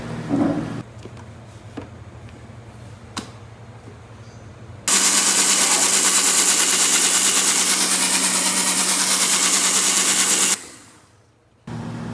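A mixer grinder blending a Nutella and Boost milkshake roars loud and steady for about six seconds, then winds down, with a low hum and a few clicks and handling noises before it starts.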